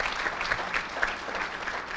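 Applause from an audience at a legislative candidates' forum, a brief steady patter of many hands clapping in a room with no voices over it.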